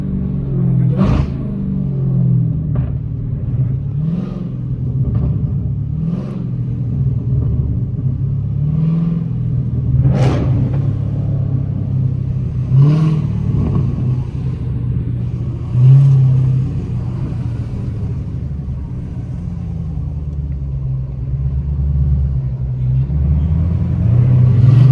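A loud Dodge Demon engine rumbles steadily while driving, with occasional revs and sharp bursts rising above the deep drone.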